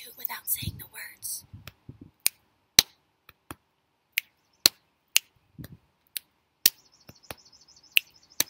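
Body percussion rhythm of boom, snap and clap played without words: sharp isolated snaps and claps in an even pattern, with softer low booms and breathy whispering early on.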